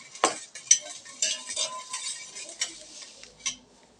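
A spoon stirs Tang orange drink powder with sugar in a glass, giving scattered light clinks and scrapes against the sides, close and fairly quiet, with irregular taps spread across the clip.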